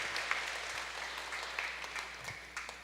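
A Sunday Mass congregation applauds in a steady, moderately distant patter that stays fairly even, with a few sharper claps standing out from the crowd.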